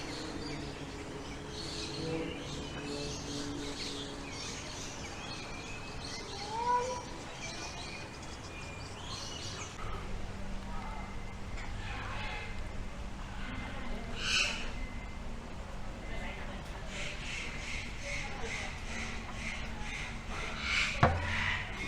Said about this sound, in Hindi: पक्षी तो यहाँ पे बहुत तरीके के हैं